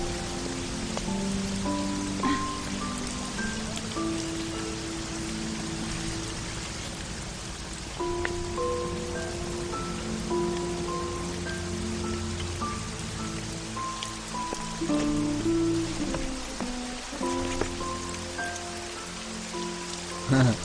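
Steady rain falls throughout, a dense even hiss of drops on surfaces, with soft music-like tones layered underneath and no voices.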